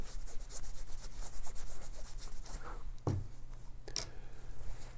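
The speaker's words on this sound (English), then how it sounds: "So we want to get all the WD-40 off that we use to polish this stone." A cloth wipes WD-40 polish off a cut gemstone, producing soft repeated rubbing strokes close by, with a sharper scrape and a brief tap near the end.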